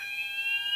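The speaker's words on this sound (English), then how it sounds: "I like the alarm sounders" Fire alarm sounder tested during a fire alarm system test, a steady loud electronic tone holding several pitches continuously for under a second, with no speech.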